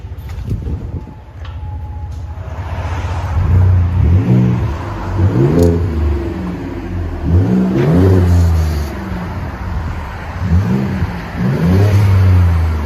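A Ford Raptor 3.5L EcoBoost V6 pickup revving repeatedly through its exhaust, loud and close, with rising and falling pitch sweeps in several bursts after a quieter idle start.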